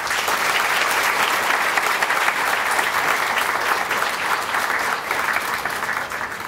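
Loud, sustained applause from a lecture-hall audience welcoming a chartered accountant to the stage, a dense continuous roar of many hands that holds steady and eases slightly near the end.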